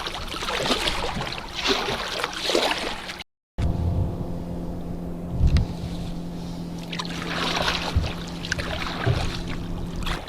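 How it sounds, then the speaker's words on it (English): A motorboat passes a paddle boat out on Detroit Lake, its low engine drone and wash of water rising and falling over several seconds, fairly close, with some splashing and no talking. "So a motorboat just passed me by."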